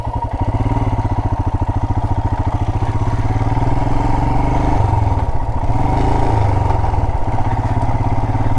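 A motorcycle engine runs steadily while the bike is ridden through a North Carolina campground, with a loud, close, rhythmic thrum and clatter that rises slightly partway through.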